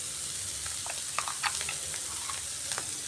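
A green chili and mustard paste fries in a pan for a stuffed spiny gourd dish, producing a continuous close sizzle with light crackles and a couple of soft stirring scrapes.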